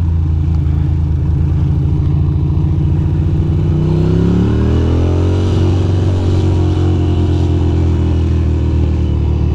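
A Ducati motorcycle riding through sunny Brooklyn streets, its engine loud and close with a throbbing note that shifts and rises in pitch as it accelerates, steady throughout.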